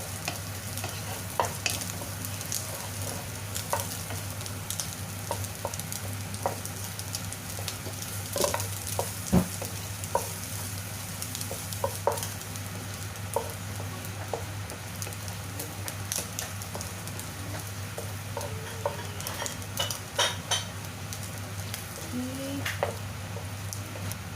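Garlic sizzles steadily in a pan as it is stirred, with a continuous frying hiss and frequent scraping taps from the utensil, fairly close and without talk.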